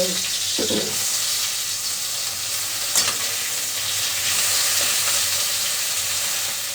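Fish fry in hot oil in a home kitchen, producing a loud, continuous, even sizzle and hiss close by, with a few faint clinks of a utensil and no talking.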